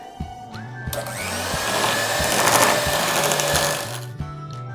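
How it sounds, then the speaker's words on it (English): An electric whisk whips a cream cheese and powdered sugar mixture for cheesecake, a steady motor whir with a pulsing low drone, getting louder in the middle and stopping near the end. "So with the same whisk, I'm going to whisk it."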